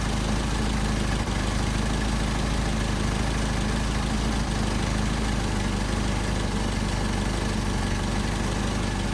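A car engine fitted with Solex carburetors idles steadily and loudly, close up, its low continuous rumble holding an even tone throughout with no voices.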